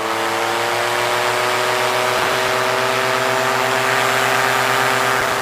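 A model aircraft engine fitted with a 3-blade propeller runs flat out at maximum RPM, a loud, steady, close droning whine that holds constant the whole time.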